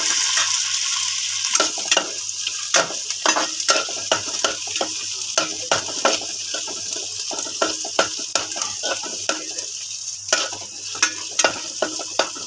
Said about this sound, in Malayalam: ഇത് 1 കുടമാണ്, 1 കുടം വെളുത്തുള്ളിയാണ്. നമുക്ക് മൂപ്പിക്കാം.